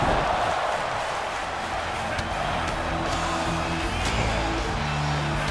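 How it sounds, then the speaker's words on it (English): A large WWE wrestling arena crowd roars steadily and chants in rhythm, a dense and loud wash of voices that continues throughout. "I agree with the crowd. This is awesome."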